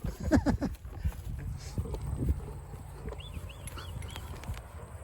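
Hooves of a ridden horse clip-clop at home on an Australian farm, a quick run of close knocks at the start easing into softer, scattered steps, with faint voices in the background.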